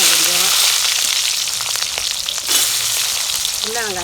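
Small onions fry in hot oil with a little asafoetida, for an adamant creeper chutney. A loud, dense, continuous crackling sizzle plays up close, with faint stirring throughout.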